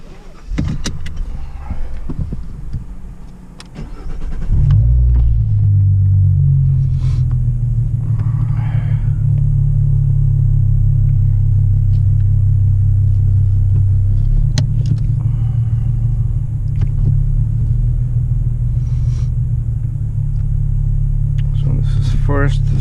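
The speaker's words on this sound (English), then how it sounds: "now we're gonna do some POV driving, and you'll see how it shifts" A car with a manual gearbox and factory shifter sits quietly with a few clicks and clunks, then its engine settles into a loud, steady low rumble while driving, with occasional sharp knocks.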